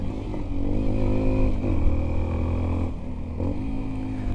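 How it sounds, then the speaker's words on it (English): A 2019 Sinnis Terrain 125 adventure motorcycle rides along a gravel track, its small single engine droning steadily nearby with slight shifts in pitch and faint gravel clatter underneath. "this is exactly the sort of thing you want a little adventure bike to do like this, is handle a little bit of gravel track like this"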